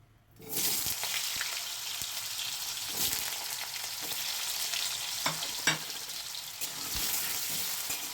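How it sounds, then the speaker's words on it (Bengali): Peeled potato pieces fry in hot oil with a steady close sizzle, joined by occasional scraping and clinks of stirring; no one speaks. "এই আলুগুলোকে আমি হালকা করে একটু ভেজে নেব"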